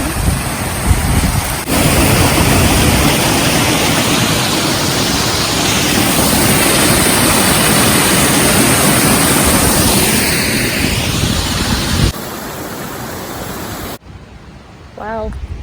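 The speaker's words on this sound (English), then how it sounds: "It's a waterfall." Outdoor waterfall on a hiking trail at Breakneck Ridge, a loud, steady broadband rush of falling water mixed with wind buffeting the microphone, with a person speaking briefly near the end.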